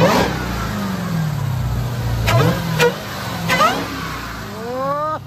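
A car with a supercharged 6.2 engine and B-Woody intake revs in short loud bursts, each rising sharply and falling back to a deep rumbling idle, close by and alone.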